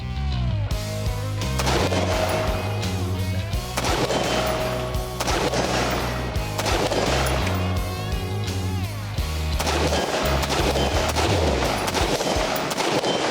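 A homemade-built rifle fires a series of gunshots at an outdoor range, each loud, sharp report followed by ringing echoes, spaced a second or two apart and close to the listener.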